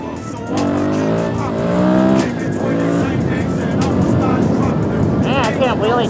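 A dirt bike engine revs and roars continuously while being ridden, loud and close, with pitch rising and falling through gear changes and throttle bursts; a voice talks over it.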